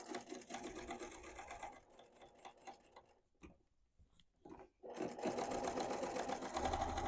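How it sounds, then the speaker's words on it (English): A sewing machine runs along the edge of a quilted tote at a narrow seam, a fast rhythmic whirring stitch that pauses in the middle with a few light clicks, then resumes loud and steady. "I'm going to sew along the edge at an 1/8 of an inch seam allowance, closing up my piece"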